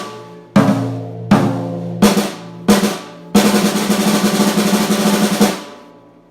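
A snare drum plays four short, sloppy double-stroke rolls with uneven, buzzing strokes, then one longer, slightly ragged roll that rings out and stops.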